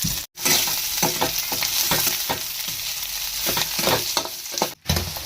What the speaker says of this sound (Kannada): ಮೆಣಸಿನ್ಕಾಯಿ ಮತ್ತು ಉಳ್ಳಾಗಡ್ಡೆ ಫ್ರೈ ಮಾಡ್ಕೊಳ್ಳೋಣ್ರಿ